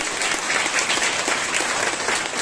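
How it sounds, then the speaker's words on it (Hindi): Loud, dense applause from a crowd, steady clapping throughout with no voices standing out. "जोरदार तालियों से।"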